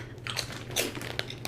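Close biting and crunching of crisp keto pork rinds, brittle cracks and chewing crackles over about a second and a half, with a faint steady hum beneath.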